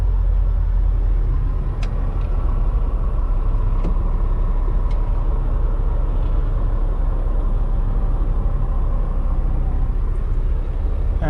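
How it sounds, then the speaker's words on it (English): Heavy highway traffic heard from inside a moving vehicle in the rain, a loud constant low road rumble with tire and spray hiss, a few brief sharp clicks, and no talking. "Got into some heavy traffic and it started to rain."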